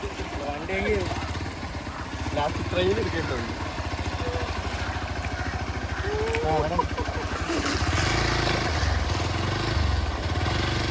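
A Hero Xpulse motorcycle engine chugs and revs steadily while people talk loudly over it, with water sloshing as the bike pushes through a stream.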